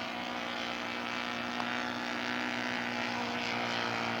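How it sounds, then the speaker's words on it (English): A one-third scale Newport 17 model aircraft comes in to land at a scale aircraft show, its engine giving a steady, continuous drone with a constant hum throughout, moderately loud and unbroken. "We'll find out here on this landing, Gary Parker's."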